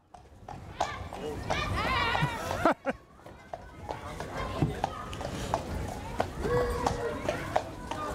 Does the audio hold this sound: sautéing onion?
no